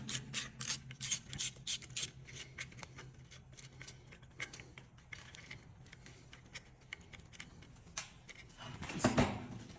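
Shipping bolts on a spline shaft motor are loosened with a ratcheting wrench, giving close, quiet bursts of rapid clicking ratchet strokes with pauses between and a louder rattling clatter near the end.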